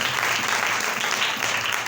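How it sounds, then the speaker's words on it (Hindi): A church congregation claps loudly in praise of Jesus, a dense, steady wall of applause that fills the whole two seconds without pause. "जोरदार तालियां यीशु के लिए"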